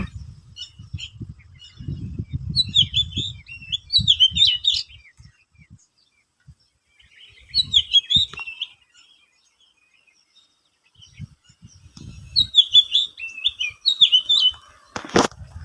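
Birds chirp and tweet in quick bright bursts, close and clear, in three separate spells with quiet gaps between, over occasional low rumbling handling noise.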